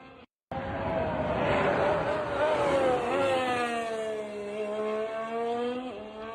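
A loud, high-pitched Red Bull Formula One car engine at shakedown testing screams steadily after a brief gap, its pitch sliding down and then rising again as it shifts, with faint voices underneath.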